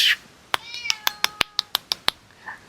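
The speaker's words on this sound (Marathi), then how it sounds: "इथं मांजर आहे माझं कशी मिळामिळ करते बघा" A pet cat meows at close range in a banana plantation, giving a quick run of about nine sharp, repeated meows in a row, with a faint voice just before them.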